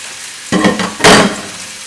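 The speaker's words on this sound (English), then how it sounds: "you can hear it start sizzling even more" Chicken sizzles in a hot cast iron skillet, two loud bursts of crackling frying close up rising over a quieter hiss.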